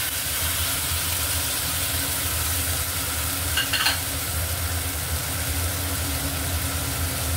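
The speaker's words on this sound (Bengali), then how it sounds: "তেলটা গরম হয়ে গেছে, এর মধ্যে আমি পেঁয়াজ বাটা রসুন আর লঙ্কা বাটাটা দিয়ে দিলাম, ভালো করে কষে নেব" Onion, garlic and chili paste frying in hot oil for an Indian fish ball recipe, a steady close sizzle running throughout with a brief brighter crackle midway and a low hum beneath.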